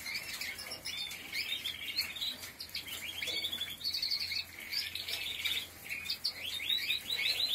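Songbirds chirp and call steadily from several directions, a busy overlapping chorus of bright tweets and short trills held at moderate loudness throughout, with no talking.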